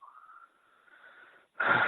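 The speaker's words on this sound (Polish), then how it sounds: "Weź parę głębokich oddechów." A deep breath is taken during a guided relaxation session: a soft, slightly wheezy inhale with a faint tonal whistle, then a short pause, then a louder rushing exhale close to the microphone.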